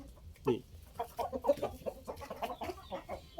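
A young half-Japanese, half-Phanat Thai gamecock, not yet fighting age, gives a series of soft, fairly close clucks and short throaty calls over a faint background.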